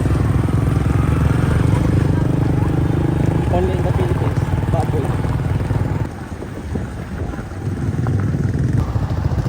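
A motorcycle engine drones steadily and loudly throughout, ridden on a rough rural road unsuitable for cars, with wind buffeting the microphone and a brief dip in level near the end.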